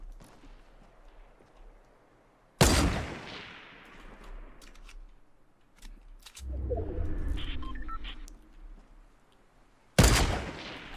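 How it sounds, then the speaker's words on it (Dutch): Two sharp, loud gunshot blasts from the video game Fortnite Battle Royale, several seconds apart over a quiet outdoor ambience with birds chirping, and a rumbling passage between them. "Waar komen die schoten vandaan?"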